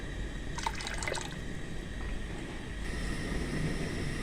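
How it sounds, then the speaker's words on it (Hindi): Water for rice bubbles and gurgles in a pot, a steady rolling simmer with a brief burst of louder bubbling near the start. "चावलों के लिए जो हमने पानी रखा था उबलना शुरू हो चुका है।"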